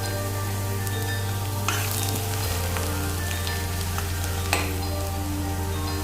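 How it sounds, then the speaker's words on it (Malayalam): Julienned ginger sautéing in a hot pan for carrot pickle, a steady close sizzle and crackle with occasional stirring scrapes, no voices. "ഇഞ്ചിയും കൂടെ ചേർത്ത് നമുക്കൊന്ന് വഴറ്റാം"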